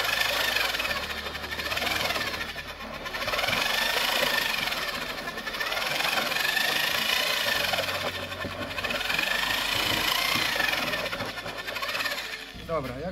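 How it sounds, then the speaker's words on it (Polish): A power mixer churns a stone-cladding mix of cement and aggregate at low speed, a steady, loud grinding drone with a gritty rattle that swells and eases in waves throughout. "Teraz to wszystko przemieszam. Na wolnych obrotach sobie przemieszam,"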